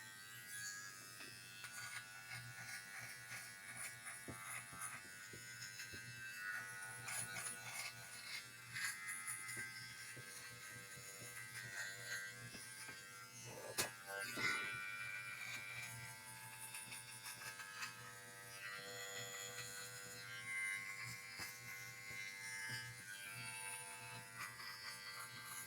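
A Yineel HC600 beard trimmer hums and buzzes steadily for the whole stretch, faint and fairly distant, with slight shifts in tone as it moves, and nobody talks over it.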